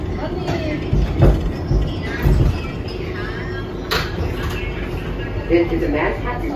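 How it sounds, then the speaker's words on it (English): An R188 subway train rides the 7 local line toward Manhattan, giving a steady low rumble with clacks and brief squeals, under passing talk. "is a Manhattan-bound 7 local train."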